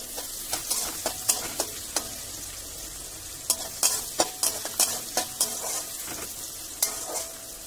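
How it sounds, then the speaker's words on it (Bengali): Sliced onions with a pinch of salt fry in a biryani pan, giving a steady close sizzle broken by repeated sharp clinks and scrapes of a spoon stirring against the metal. "পেঁয়াজটা ভাজা ভাজা হয়ে যাক"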